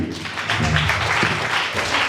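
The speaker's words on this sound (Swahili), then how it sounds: "Wachapie makofi tafadhali." A congregation at a church service claps in a dense burst of applause lasting a couple of seconds.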